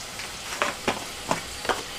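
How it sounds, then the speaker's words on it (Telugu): Spices frying in hot oil for a beans and tomato curry, a steady soft sizzle with a few sharper crackles or stirring scrapes, close and fairly quiet. "ఒక 2 నిమిషాల పాటు వేగనిస్తున్నాను ముందు"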